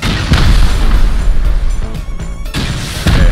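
Rocket launcher rockets explode during a base raid in the game Rust, a close, loud string of deep booming blasts, with a brief lull before another heavy impact.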